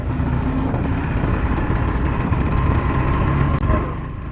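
Yamaha FZ-S FI V4.0 motorcycle on the move, a steady, loud engine drone with a low rumble and rushing wind that stays constant throughout, no talking.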